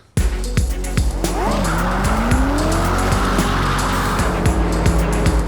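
A Ford GT supercar driven hard, its engine note rising and falling loudly up close while tires squeal and skid over the sustained roar.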